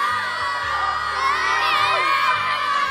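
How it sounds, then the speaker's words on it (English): Crowd of panicked passengers screaming and shouting as the Comet ship sinks, a dense, continuous wall of overlapping yells and cries close by, with no clear gaps over a few seconds. "They were searching for their friends among the crowds of people, screaming and shouting."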